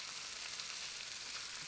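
Food sizzles in a skillet in the cooking game Cooking Simulator, a steady, hissing fry that runs unbroken and fairly quiet with no voices.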